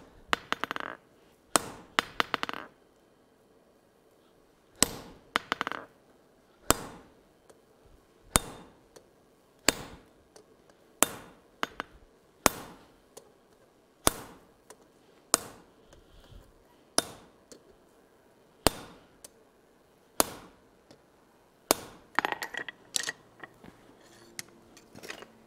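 Hammer blows on hot iron over an anvil while forging a colonial-style trivet, shaping flower petals: sharp metallic strikes land alone in a steady rhythm of single hits, a rapid burst near the start, about once every second or two afterward.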